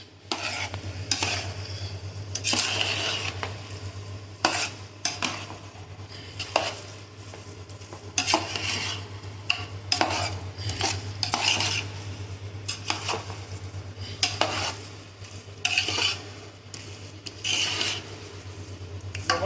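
Cooked rice is stirred vigorously in a metal pot, a continuous run of close scraping and clanking from the spoon over a steady low hum, no voices.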